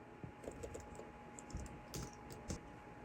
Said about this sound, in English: it might help if I typed it in right